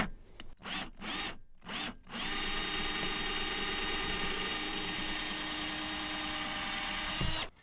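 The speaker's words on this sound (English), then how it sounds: "So I'm going to drill down." A power drill bores string holes down through the plastic body of a toy guitar, first in a few short stop-start bursts, then in one steady, continuous whine lasting about five seconds before cutting off.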